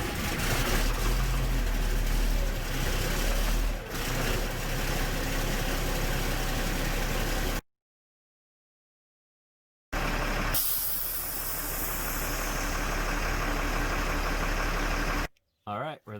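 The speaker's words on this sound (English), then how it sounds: "I'm going to start the truck now. I doubt it's cold enough for the heater to kick in, but see if she purges and I build air" An M1078 LMTV military truck engine starts and runs loudly, building air pressure, with a steady rumble that breaks off into a short silence before running again; people talk over parts of it.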